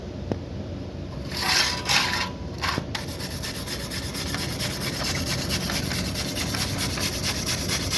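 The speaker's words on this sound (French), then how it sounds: "il va prendre sa brosse métallique et il va la nettoyer" A wire brush scrubs across a fresh weld on a steel test piece in a welding practice exercise, giving a steady close rasping scrape that runs for the whole stretch, with a few brief louder strokes near the start and no voices.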